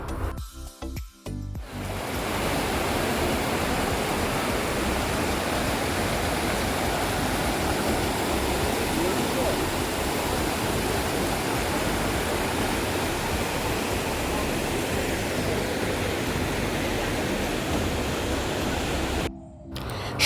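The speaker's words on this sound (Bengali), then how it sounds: "চলো তোমাদেরকেও একবার এই নদীর কুলকুল সাউন্ডটা শোনাই" A river babbles and rushes steadily near the route to Pangong Lake, a constant close wash of flowing water that holds evenly for the whole stretch after a brief start.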